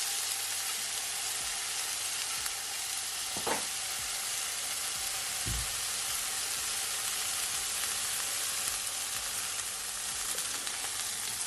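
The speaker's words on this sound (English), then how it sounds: "So here I have my pot on my stove, and I just add 1 teaspoon of butter. So now I'm just adding my sweet corn." Sweet corn fries in butter in a pot on a stove, making a steady, even sizzle throughout, with a couple of faint knocks and no talking.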